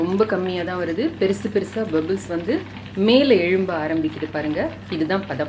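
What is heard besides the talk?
No distinct noise like a dog, phone or traffic.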